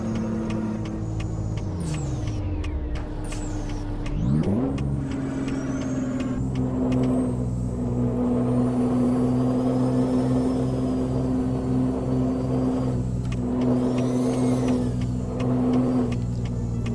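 A Peterbilt 389 truck engine in Euro Truck Simulator 2 drones loud and steady, its pitch dipping and climbing through gear changes before settling into a sustained high-rev roar, with a faint hiss near the end.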